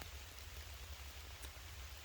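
Steady rain falls during a muddy off-road wheeling trip in Alaska, a constant close hiss of drops with a low rumble underneath and no voices.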